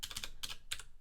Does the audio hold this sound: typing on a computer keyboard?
yes